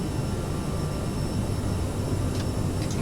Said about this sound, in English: Gonna activate our reversers.